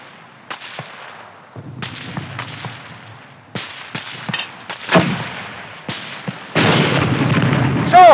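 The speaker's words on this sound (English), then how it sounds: "Hurry up with that mortar!" Mortar fire in a World War II battle scene from a war film: a series of sharp, loud cracks and bangs at irregular intervals, some echoing, ending in a denser roar of blasts.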